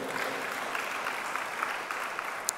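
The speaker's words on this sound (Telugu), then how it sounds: "చప్పట్లు కొట్టి దేవుని స్తుతిద్దాం" A church congregation claps together in praise, a dense, even wash of applause lasting a few seconds with no talking.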